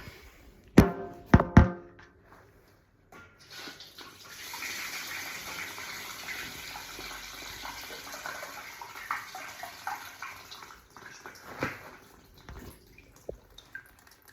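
Water rushes and hisses steadily from bled heating flow and return valves for several seconds after a few sharp metallic knocks, then tapers off with scattered clicks.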